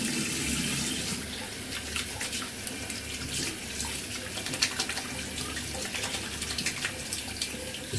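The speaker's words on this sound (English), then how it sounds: "Just rinsing out the brush a little bit." A shaving brush is rinsed under a running tap in a bathroom sink, with steady splashing water that flows without a break for several seconds and no talking.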